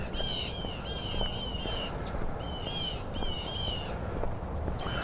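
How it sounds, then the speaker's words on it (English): Birds call harshly outdoors in winter, repeated squawking bursts rising above a steady bed of ambient noise at moderate distance. "These sound like some angry birds."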